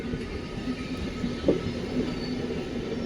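An ICF coach of the Basava Express rolls along the track in a continuous, moderately loud rumble, with a faint steady squeal and a brief clatter of the wheels midway.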